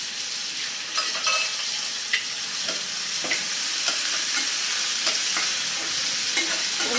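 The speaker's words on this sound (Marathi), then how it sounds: "कांद्यासोबत परतून घेऊयात" Onion sautés in a pan with ginger, garlic and green chili paste for a dry potato sabzi, giving a steady close sizzle broken by occasional scraping stirs and light clinks.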